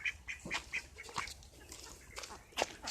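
Farmyard ducks quack in short repeated bursts at close range, several calls overlapping in quick succession.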